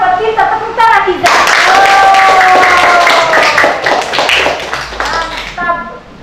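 A class of schoolchildren claps hands together in a classroom, a loud burst of rapid claps lasting several seconds, with children's voices and tonal shouts mixed in before fading.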